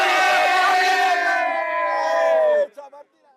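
Napoli football supporters in Turin loudly chant in unison after a match, a dense crowd roar of sustained harmonic voices for over two seconds that cuts off abruptly, leaving a few brief scattered shouts.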